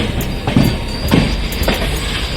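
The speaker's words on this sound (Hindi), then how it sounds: "फिलहाल अभी तो ट्रेन हमारी चल पड़ी है" A moving passenger train heard from on board, with a loud, steady rumble and rhythmic clacks of the wheels passing over rail joints.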